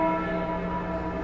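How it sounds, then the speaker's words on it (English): A church bell in a video game rings with a sustained, resonant metallic tone, loud and steady across the short moment before a fresh strike begins at the end. "Did you ring the bell again?"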